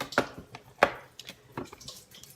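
Water from a kitchen tap splashes and drips into a Kangen water ionizer machine, in a few uneven bursts with light clinks, close and moderately loud.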